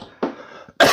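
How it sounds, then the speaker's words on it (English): A person recovering from COVID coughs twice in quick succession, close and fairly loud, the second cough sharper and harsher than the first. "I'm still coughing a little bit."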